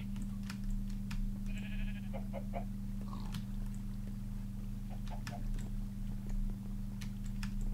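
Short synthetic sheep bleats from the video game Agrarian Skies sound amid steady background hum and scattered clicks, with no talking.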